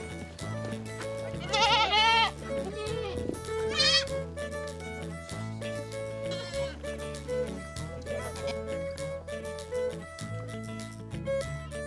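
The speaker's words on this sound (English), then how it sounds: "and lots of goats." Goats bleat repeatedly on a five-acre farm, several wavering calls rising over a steady musical background, with no talking.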